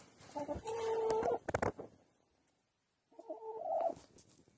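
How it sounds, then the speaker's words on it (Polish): Four backyard chickens cluck and squawk nearby just after feeding, in two short bursts separated by a brief quiet gap. "Przed chwilą nakarmiłam kury, które mamy. Mamy cztery kury."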